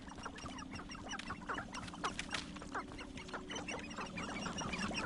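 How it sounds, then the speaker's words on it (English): Chickens in the video game Hogwarts Legacy cluck and chatter continuously in a noisy flock, with many overlapping close calls and a low hum of ambience underneath. "Oh, you just chickens?"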